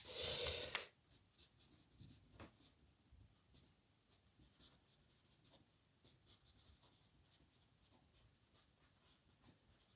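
A pen scratches across paper in quiet, intermittent strokes after a brief louder rustle at the start. The setting is hushed and nobody speaks.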